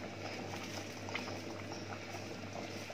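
Pork belly curry with cassia leaves bubbles and simmers steadily in a pot, a dense, soft gurgling texture that stays close and constant throughout.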